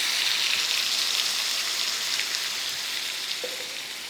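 Oil heating in a pan for a Marathi dal-and-brinjal dish gives off a steady, even sizzling hiss, close and continuous with no talk.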